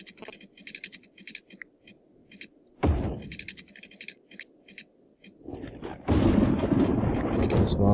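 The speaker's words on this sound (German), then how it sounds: "Das war ein ganz schöner Donner gerade." Thunder in the city-building game Cities: Skylines: a sudden loud broadband crack near the 3-second mark, then a heavy, sustained rumble over the last two seconds, with soft owl-like hooting calls in the ambience beforehand.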